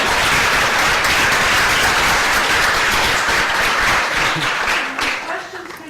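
Loud, dense applause from a conference audience, many hands clapping in a continuous wash that holds steady, then thins and fades toward the end.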